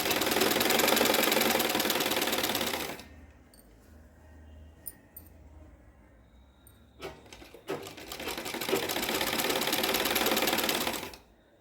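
Sewing machine stitching a sleeve onto a lined blouse, a loud steady whirring run for about three seconds, a pause with a few faint clicks and handling, then a second long run before stopping.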